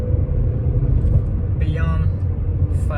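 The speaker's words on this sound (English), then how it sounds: "The car is obviously naturally has aspirated, so it likes to rev." A naturally aspirated 135-horsepower Peugeot 406 sedan engine revs hard past 5,000 RPM, a steady loud droning rumble that climbs in pitch partway through, with someone talking over it.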